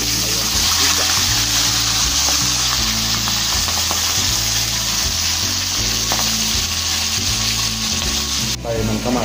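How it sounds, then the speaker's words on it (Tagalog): Galunggong fish frying in hot oil in a pan, a loud, steady, dense sizzle and crackle throughout, close up with no talking. "ready na sila para iprito sa mainit na mantika."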